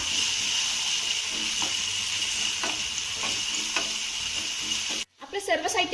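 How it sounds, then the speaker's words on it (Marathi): Peas with green chili paste and ginger-garlic paste are stirred in a hot frying pan, a steady loud sizzle with scraping strokes, then a brief cut to quieter clatter near the end. "आता हे चांगलं मिक्स करून घेऊया"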